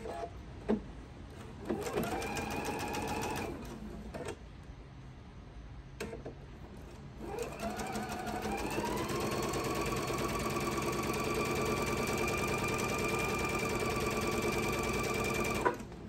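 A sewing machine stitches a scant quarter-inch seam across the top of a fabric placemat, starting with short whirring bursts and pauses, then settling into one long, steady, close-up run of rapid needle chatter.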